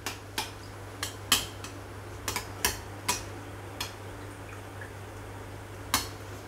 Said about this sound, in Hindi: थोड़ा थोड़ा इस पर तेल डालेंगे।